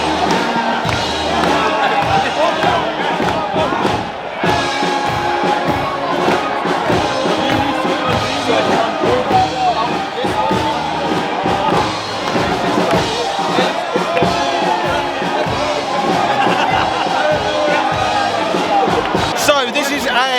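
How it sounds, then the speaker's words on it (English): A raucous crowd in an Oktoberfest beer tent in Munich, with dense cheering, chatter and scattered thumps of fists or mugs banging on tables, steady and loud throughout. "People are starting to bang on the tables and cheer, so it's starting to get a little bit raucous."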